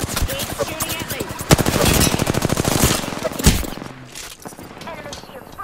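Rapid automatic gunfire in the Apex Legends battle royale game, dense bursts of repeated shots loud and close, mixed with game sound effects and a voice talking over the action.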